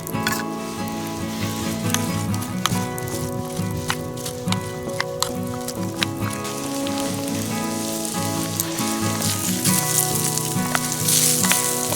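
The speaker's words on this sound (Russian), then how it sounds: "Ну что, морковку с лучком я слегка обжарил." Carrots and onions fry in a camp pot over a campfire in the forest, a steady close sizzle with small crackles and pops and occasional clinks of stirring, with no talking.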